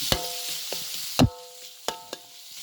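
Thin-sliced beef frying in a little oil for Thai basil stir-fry, a steady close sizzle broken by a few sharp clacks of a utensil against the pan.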